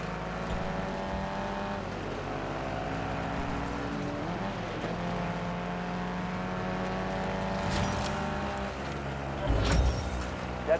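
A car driven in the video game Warzone hums with a continuous engine drone that rises and falls with speed, ending in a brief louder thump.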